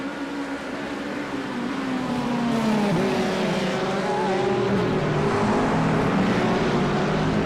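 Loud, continuous racing video game engine noise with rising and falling revs and faint tire squeal, no talk over it.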